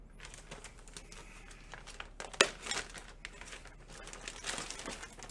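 A foil-wrapped trading card pack being opened, crinkling wrapper noise with a sharp tearing snap partway through followed by more rustling, close and fairly quiet with no talk.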